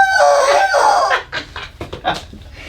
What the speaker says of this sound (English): And we have my chicken.